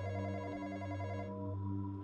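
A telephone rings in the Roblox horror game The Intruder with a steady, electronic multi-tone ring that holds continuously and fairly loud, with no talk over it.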